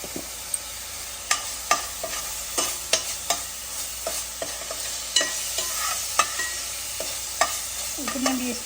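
Ginger garlic paste and garam masala fry in a pan for an Andhra-style fish curry, with repeated sharp scraping stirs of a spoon over a soft, continuous sizzle, no voices.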